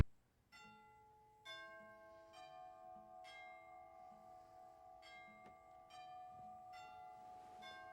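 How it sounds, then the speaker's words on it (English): An elaborate doorbell chime in a film scene rings out a series of bright, bell-like tones, several struck notes ringing on and overlapping across about eight seconds, fairly quiet throughout. "That doorbell seems overly elaborate."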